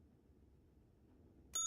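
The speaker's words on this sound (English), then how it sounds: "No hotel front desk is complete without a bell." A hotel front desk bell in the video game Slender Threads gives one bright, clear ding with a ringing tail, after quiet room tone.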